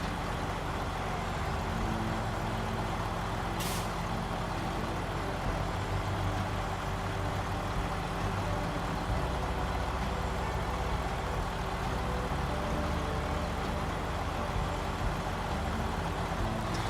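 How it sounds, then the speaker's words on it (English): A Mack truck engine in a trucking video game, a steady low rumbling drone that runs continuously throughout with no talk over it. "You were hearing the Mac engine noises."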